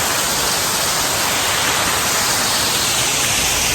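Bocaocao waterfall roaring in a loud, dense, unbroken rush of falling water, close by and continuous, with no voices.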